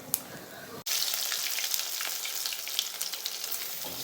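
Mustard seeds drop into hot oil for tempering, and after a sharp click a bright, steady frying sizzle rises with fine popping crackles throughout, close and fairly loud, with no speech.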